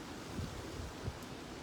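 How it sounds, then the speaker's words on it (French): Steady, low outdoor wind rumbles and buffets against the microphone with a couple of slightly stronger gusts, fairly quiet and with no voices. "C'est juste le vent"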